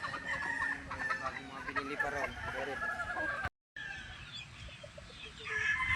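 Roosters and hens of straight-bred six-month-old gamefowl crow and cluck together on a farm in Tagaytay City, several birds calling at once with layered crows, a short break partway through, and ambient yard noise throughout.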